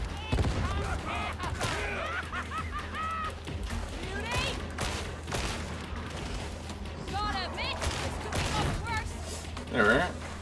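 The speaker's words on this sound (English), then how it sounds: "Just gonna chuck a grenade in this general direction." Grenade blasts and gunfire in the co-op shooter Warhammer 40,000: Darktide, a busy run of booms and shots with a louder burst near the end, under ongoing talk.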